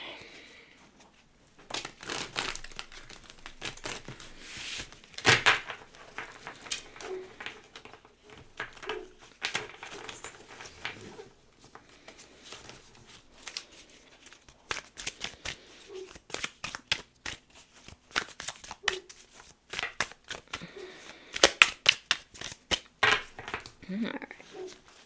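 Tarot cards being shuffled in quick, papery riffling bursts, soft and close, coming and going over about twenty-five seconds with short pauses between them.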